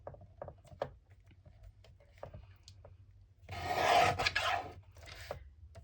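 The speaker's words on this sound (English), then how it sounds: "And then I'm going to trim up this edge so it's even." A blade or cutter trims the edge of a paper book page, a dense scraping rasp lasting about a second after several faint clicks and taps, heard close up with no talk.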